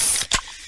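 A short burst of hiss with a sharp release as a fresh bottle of Pepsi is cracked open, close and fairly loud.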